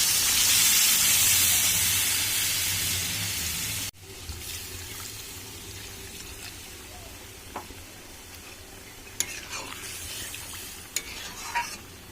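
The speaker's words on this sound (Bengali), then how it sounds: "এবারে আমি দিয়ে দিচ্ছি এর মধ্যে জল।" Water goes into a pan of browned meat curry: a loud sizzling hiss cuts off abruptly, then quieter bubbling and stirring follow with a few small clinks.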